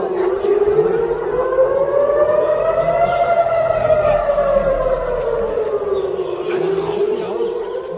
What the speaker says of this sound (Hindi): सायरन्स लगातार बजते रहे।